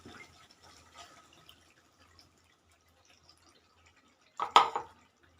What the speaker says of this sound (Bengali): আর দিয়ে দেবো মশলার বাটি ধুয়ে জলটা